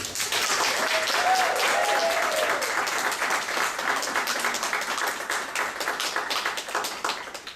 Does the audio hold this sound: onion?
no